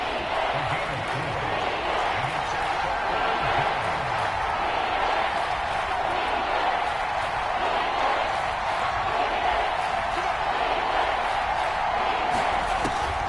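Cleveland Browns home crowd, the Dog Pound, at an NFL game against the Bears, a constant broad roar filling the stadium, with faint voices briefly heard early and the noise holding steady and loud throughout.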